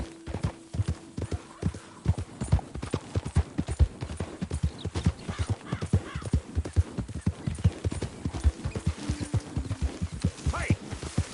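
A horse gallops in Red Dead Redemption 2, with loud, close hoofbeats pounding in a fast, regular rhythm for the whole stretch. A short tonal call or whinny sounds near the start and again near the end.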